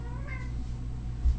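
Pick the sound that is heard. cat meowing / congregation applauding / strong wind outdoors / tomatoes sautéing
cat meowing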